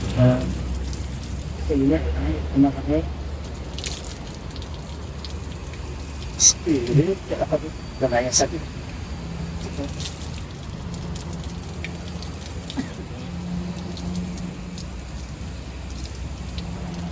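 Water runs steadily from a tap during wudhu ablution, a continuous splashing hiss that lasts the whole stretch while people talk over it nearby.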